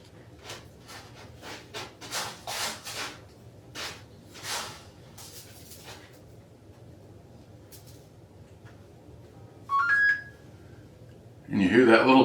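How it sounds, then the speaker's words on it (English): A phone app gives a short beep, then a sharp bright sound, while activating a Freestyle Libre 3 glucose sensor; the beeps come near the end, after several soft taps and brief talk. "you hear that little beep? That tells me I've got a new sensor activated."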